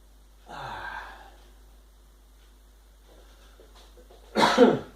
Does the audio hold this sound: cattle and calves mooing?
no